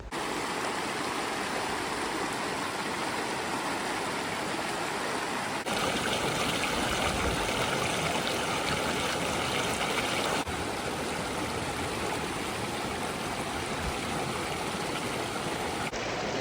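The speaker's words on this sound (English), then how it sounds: "we're going to check out this creek." A creek near a hidden waterfall rushes in a steady, full, close-up roar of flowing water, constant throughout with slight shifts in intensity and no voices.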